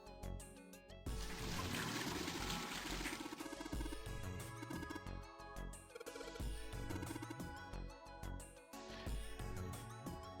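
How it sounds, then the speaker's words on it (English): A toilet flushing in the video game 999 gives a rushing, pouring gush of water that swells and then trails into trickling, mixed low under the game's background music. "Do I have to like hit the flusher?"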